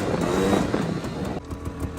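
A 1990 Honda Pilot off-road buggy drifts through a turn, its engine revving loudly close up for a couple of seconds before dipping briefly.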